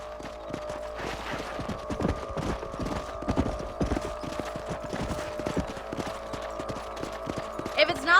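Horses ridden in the video game Red Dead Redemption on Xbox 360, with a steady rhythmic clip-clop of several hooves at a trot, close and clear beneath game music tones, and brief speech near the end.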